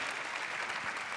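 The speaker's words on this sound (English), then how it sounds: "That definitely deserves an applause." A short burst of faint, even applause from an audience at a business leaders' forum in Miami, heard as a distant, steady patter without speech.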